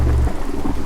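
Rain and thunder in an animated Cuphead cartoon: a heavy low thunder rumble opens, then steady rain hiss continues loud and close with no voices.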